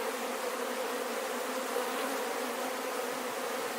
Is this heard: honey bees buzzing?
yes